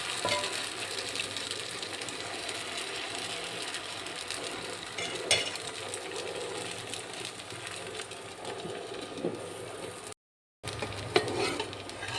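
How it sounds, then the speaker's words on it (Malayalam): Dosa batter cooking on a hot pan at breakfast, a steady dense crackling sizzle running throughout with occasional clinks, broken by a brief silent cut near the end. "ഞാൻ വേഗം ദോശ ചുട്ടെടുക്കുകയാണ്"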